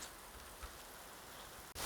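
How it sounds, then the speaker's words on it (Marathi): A constant wash of rain noise, faint and distant, holds steady for a couple of seconds before a brief dip and a slightly louder burst. "आता एवढा मजबूत पाऊस येतोय"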